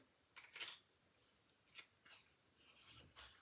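Scissors snip around a stamped paper piece for a card project, a handful of quiet, separate cuts spaced irregularly, close by in an otherwise still room.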